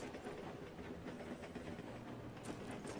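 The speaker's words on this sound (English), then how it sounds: "If I tell you to slow the train down" A train rolls along steadily in the Fistful of Frags video game, giving a continuous broadband rumble with a faint clickety-clack rhythm from start to finish and a brief brighter hiss near the end.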